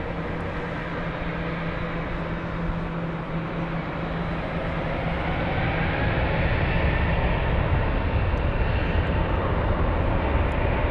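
A Lufthansa Airbus A321 airliner takes off at Frankfurt, its jet engines a loud, steady broadband roar that swells slightly over the full stretch, with no talk.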